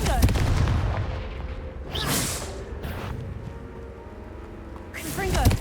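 Fiery Confringo spell blasts in Hogwarts Legacy: a few loud, sharp explosive bursts go off in sequence over a rumbling game soundscape.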